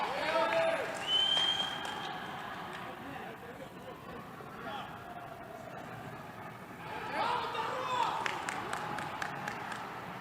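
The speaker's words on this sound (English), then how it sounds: "You can see the crowd here cheering for her." Spectators at the 17th World Wushu Championships in Brazil cheer and applaud, a steady crowd roar with swells of clapping near the start and again toward the end, while a commentator talks over it.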